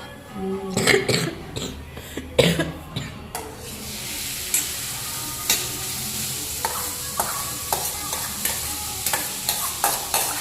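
Vegetables sizzle and crackle in hot oil in a pan on full flame, with scraping stirs and a few clatters early on. Steady frying hiss continues throughout.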